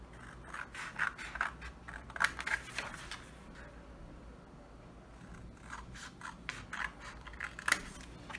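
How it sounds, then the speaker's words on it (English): Scissors snipping through fabric while making fabric storage boxes, several crisp cuts in two bursts separated by a quieter pause, close and fairly faint with no speech. "let me cut this one too"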